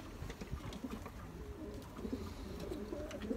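Adana pigeons coo softly and repeatedly in a loft in low, rolling murmurs, several birds overlapping, with faint rustling and scattered clicks in the background.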